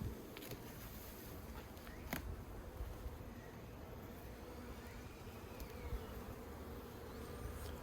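A steady, faint buzz of honeybees around a sparsely populated hive in Australia, with a few sharp clicks and taps.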